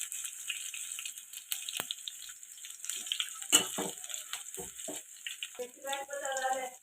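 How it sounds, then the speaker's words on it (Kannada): Dried red chillies and garlic fry in a pan, a close, steady sizzle and hiss with a few soft clinks and stirring knocks. A bubbling, crackling burst comes near the end. "ಒಣಮೆಣಸಿನ್ಕಾಯಿ, ಬೆಳ್ಳುಳ್ಳಿ ಫ್ರೈ ಮಾಡಬೇಕು"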